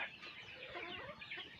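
A fighting rooster clucks in a steady run of short, close calls, with several hens or other fowl adding faint chatter in the background.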